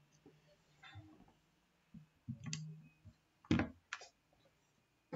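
Sharp mouse clicks while right-clicking to open Design Modeler in engineering simulation software, a few separate clicks spaced over several seconds amid faint low murmurs and quiet room noise.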